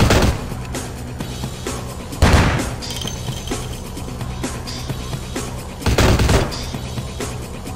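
Gunfire in Vampire The Masquerade Bloodlines. A few loud, sharp shots punch through a steady background of game noise, with several separate blasts spread across the clip.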